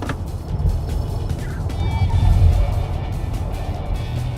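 Renault Filante car speeding up on a race circuit, a smooth rising drive hum that swells midway and then settles, heard from inside the cabin with light road and wind noise.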